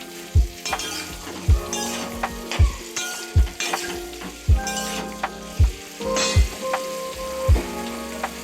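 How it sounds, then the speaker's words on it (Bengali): Cauliflower pieces frying in white oil, a steady sizzle broken by repeated sharp knocks and scrapes as they are stirred, close and fairly loud, with no voices. "প্রথমে সাদা তেলে কপিগুলো একটু ভাজবো ভালোভাবে"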